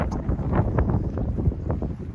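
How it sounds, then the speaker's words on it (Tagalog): Wind gusts buffet the microphone on a small island in a Mexican town, a close rumbling roar that rises and falls unevenly, with faint background sounds and no clear talk. "Mahangin dito."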